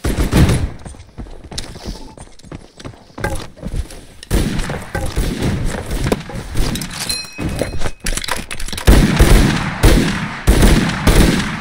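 Rapid gunfire in the video game Knightfall A Daring Journey, dense loud bursts of shots and impacts cracking continuously for several seconds, close and harsh, with hardly a pause between volleys.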